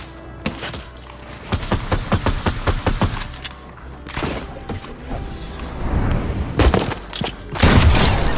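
Fortnite gunfire in close combat, with a rapid string of sharp shots followed by scattered bursts and heavier thumps. It is loud and close, with no talking.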